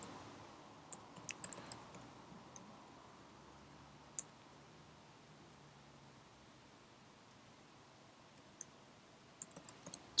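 Sparse, faint clicks of a computer keyboard as a word is typed into a Photoshop text layer, with a few isolated keystrokes and short bursts over a steady low hiss.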